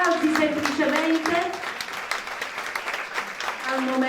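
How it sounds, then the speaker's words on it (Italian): An audience at a theatre event claps for a writer and playwright, steady applause running throughout while a voice speaks over it in the foreground. "Intanto ci stiamo soffermando ad applaudire, perché merita un applauso, il nostro Alessio Patti"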